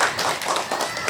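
Applause from the audience at an Islamic women's study gathering (majlis taklim), a short, dense patter of many hands clapping together at steady loudness, heard briefly indoors.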